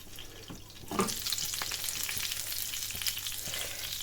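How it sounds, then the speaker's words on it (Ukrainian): Steady sizzling of dough frying in a covered pan over low heat, soft and continuous, with a light clatter near the start. "Накриваємо кришкою і смажимо на повільному вогні."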